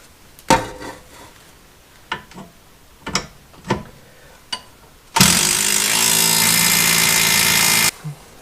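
Bolts on a BMW E36 rear trailing arm being tightened with hand tools, a few sharp metallic clicks and knocks spaced out, followed by a loud sustained burst of an air or power tool running for about three seconds.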